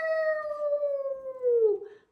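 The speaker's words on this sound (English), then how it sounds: "More wolves respond with their unique howls." A wolf howl rises into a long, clear, sustained tone that slowly slides downward over about two seconds, then fades out, heard alone and fairly close.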